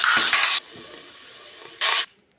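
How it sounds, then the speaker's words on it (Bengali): Chicken pieces with spices and bay leaves sautéed in a pan, cooked without oil: two short bursts of close sizzling and stirring, with a quieter steady hiss in between. "সব মাংসগুলোকে কষিয়ে নিচ্ছি"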